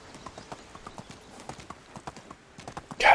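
Horse hooves clip-clop in a steady trotting rhythm across the Medieval Dynasty game world, crisp and mid-distance, ending with a louder sudden burst.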